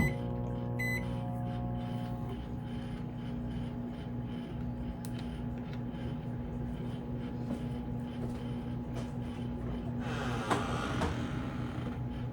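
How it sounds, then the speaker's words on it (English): A microwave oven heating water hums steadily for a dozen seconds, with a short series of electronic beeps near the start and a faint rattle or clatter toward the end. "Now I just wait for the water while the microwave takes"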